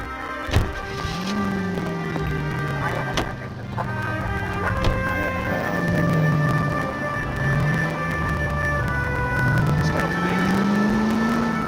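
A car drives in the video game LA Noire, engine revving and shifting through rising and falling pitch over continuous road rumble, with scattered game sounds and clicks around it.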